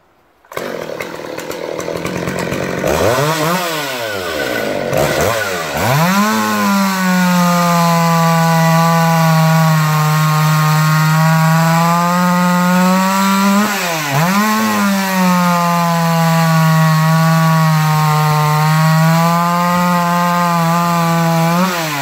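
Stihl 034/036 chainsaw with a modified muffler and its spark screen removed, loud and close, starting up, then revving hard with sweeping pitch changes before settling into a steady high-pitched scream with a brief dip midway, alone with no voices.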